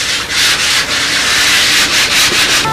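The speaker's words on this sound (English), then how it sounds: "you can put the final little sanding in with some nice fine paper" Fine sandpaper rubbing over a Brodak Nobler control-line model plane, steady close scratchy back-and-forth strokes in a brisk rhythm with no talking.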